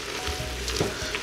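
Ground beef and translucent onions frying together in a pan for spaghetti sauce: steady close sizzle with faint stirring scrapes, no voices.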